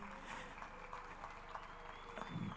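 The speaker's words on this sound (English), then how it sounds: "Another round of applause for His Excellency." Faint, steady applause from a crowd, a soft continuous patter of clapping heard at a distance without a clear break.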